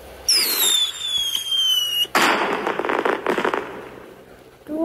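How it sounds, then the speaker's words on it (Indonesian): Fireworks sound loud and close: a rising whistle first, then a sharp bang and a burst of dense crackling that fades out, with no talking. "petasan."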